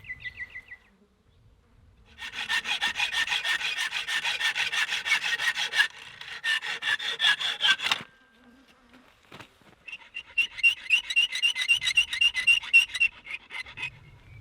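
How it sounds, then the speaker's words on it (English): A hacksaw cuts high tensile steel bolts to length outdoors, making rapid, rhythmic rasping strokes in two long bursts separated by a pause, close and fairly loud, with no talking. "I'll get my hacksaw out and cut them down to correct size"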